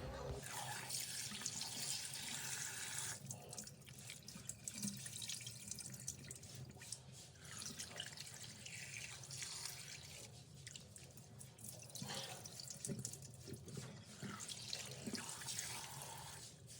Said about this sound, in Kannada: ಅರಿಶಿನ ಉಪ್ಪನ್ನ ಆ್ಯಡ್ ಮಾಡ್ಕೊಂಡಿರೋ ಮೀನನ್ನ ಚೆನ್ನಾಗಿ ತೊಳ್ಕೋಬೇಕು